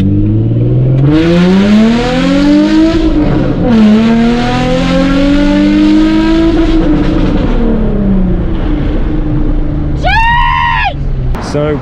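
A Nissan 350Z engine revs up and down repeatedly, close and loud, with rising and falling pitch sweeps and a sharp high squeal near the end.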